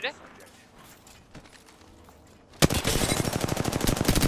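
Rapid automatic gunfire in an online multiplayer shooter match, starting abruptly partway through as a loud, dense burst of close shots after quieter footsteps and background game noise.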